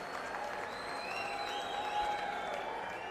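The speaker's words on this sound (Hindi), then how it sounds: "उनके लिए एक जोरदार तालियों से स्वागत होना चाहिए।" Crowd clapping at an Aam Aadmi Party political rally in Adampur, a steady wash of applause holding at an even level throughout, with a faint tonal whine riding above it.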